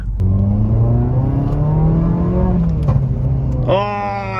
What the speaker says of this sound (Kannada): that gear shift was good Sujay